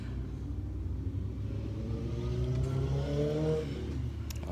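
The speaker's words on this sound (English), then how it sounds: "Other motorcycles driving by." Motorcycles rumble past at a moderate distance, a low steady drone rising in pitch as they go by.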